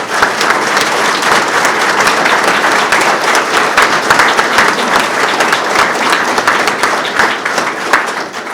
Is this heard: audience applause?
yes